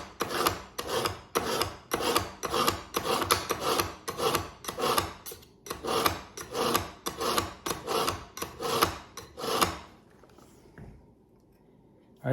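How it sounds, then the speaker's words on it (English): Knife blade drawn repeatedly across a sharpener to hone it, a steady series of about fifteen rasping strokes in an even rhythm, close and clear, ending in quiet. "this is going to finish it off and hone the blade."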